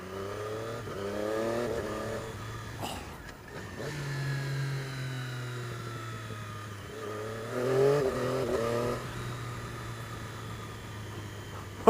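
A Triumph Daytona 675R motorcycle accelerates hard using its quick shifter, its engine note climbing in rising sweeps with sharp clipped gear changes and a short drop between runs, loud and close.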